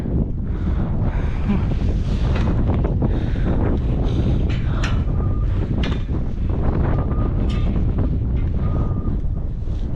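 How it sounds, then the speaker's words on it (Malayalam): Loud, constant mountain wind near Annapurna Base Camp roars and buffets the microphone for the whole stretch, a dense rumbling gust with no letup. "കാറ്റടിയും സൗണ്ട് കേൾക്കുന്നുണ്ട്"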